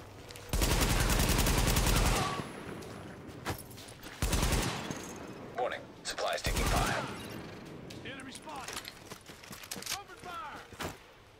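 Gunfire in Tom Clancy's The Division, several loud sustained bursts of automatic fire with short gaps between them, followed by scattered single shots and game voice callouts.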